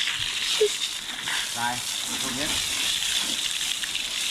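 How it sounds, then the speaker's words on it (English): Fresh water gushes steadily from a hose as an elephant is rinsed off at an elephant park in Phang Nga, Thailand, a continuous hissing spray running throughout with faint voices in the background. "The very fresh water from the hose."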